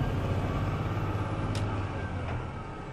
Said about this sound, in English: I'm going to skip shift from 6th direct to 7th direct.